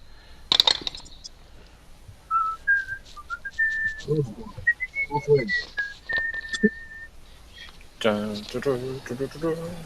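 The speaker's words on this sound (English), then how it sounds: "where's that whistling coming from?" Whistling heard during video game play: a short melodic whistled tune drifts up and down in pitch over several seconds, mixed with clattering game sounds and a loud burst of noise near the end.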